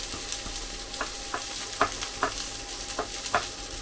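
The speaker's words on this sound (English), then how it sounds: "isn't there just something so nice about frying onions?" Onions sizzling in a hot wok over high heat, a steady close frying hiss broken by regular stirring scrapes and clinks roughly every half second.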